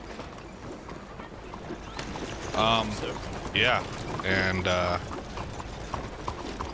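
A horse's hooves clip-clop in Red Dead Redemption 2, a brisk repeated gait under steady game ambience while someone talks over it briefly.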